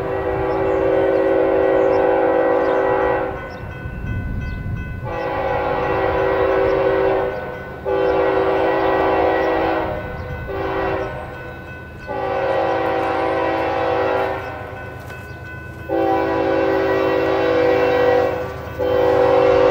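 An empty coal train rolls through town with a heritage Nickel Plate engine trailing at the rear, its wheels pounding as if each has a flat spot, under long, loud, repeated horn blasts.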